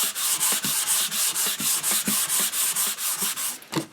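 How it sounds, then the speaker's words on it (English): Rhythmic scratchy strokes of a sanding block rubbing back and forth on a wooden air rifle stock, close and steady, about two strokes per second. "I use the sanding block as much as I can."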